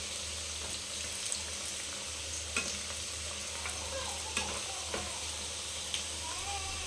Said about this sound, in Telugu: సో చికెన్ ఫ్రై అయితే ఇలా చేసుకోవాలి మనం